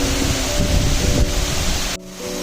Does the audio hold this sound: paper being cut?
no